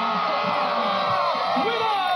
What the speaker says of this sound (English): give us a big cheer if you thought Dix was better!